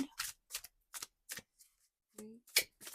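Tarot cards pulled one by one from a deck, a series of soft, quick papery slides and flicks spaced about half a second apart, close and quiet, with a brief murmured voice among them.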